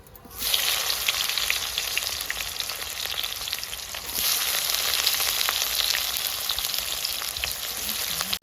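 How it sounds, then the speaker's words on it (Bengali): Chopped onion drops into hot oil already holding dried red chilies, whole cumin and bay leaf for Bihari-style chicken, setting off a loud, dense, continuous frying sizzle that swells after a quiet start. "আমি পেঁয়াজটা দিয়ে দিচ্ছি"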